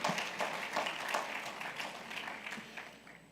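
Conference audience applauding at a regional investments and capital markets gathering in Jamaica, a steady wash of moderate claps from a large hall that thins toward the end.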